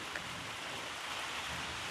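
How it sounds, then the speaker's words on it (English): Steady rain falls with a dense, even hiss and no clear individual drops. It sounds close and unbroken, with no voices. "Because rain is like shh, when it pats us on the head and shoulders."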